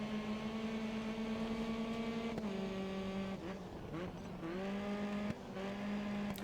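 Computer-generated race cars in the racing game Grid Autosport, engines droning and whining steadily at close range, pitch shifting with gear changes and brief dips, loud and continuous with no talk.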